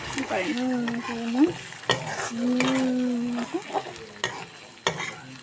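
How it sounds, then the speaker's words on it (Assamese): Egg and tomato frying in a pan, stirred with a utensil: a steady close sizzle with scraping strokes and light clinks of metal on the pan, no talking. "ধুনীয়াকৈ এনেকৈ মই লৰাই দিছোঁ।"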